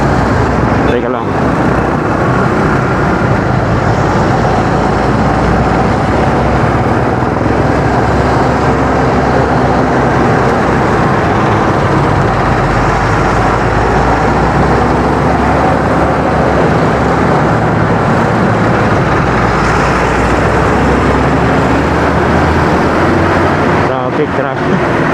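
Heavy road traffic in Manila, a loud continuous rumble of engines and passing vehicles heard close from inside a car, with people talking over it.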